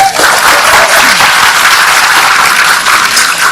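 Loud, dense applause from a large talk show audience, a continuous wash of many hands clapping at once without a break.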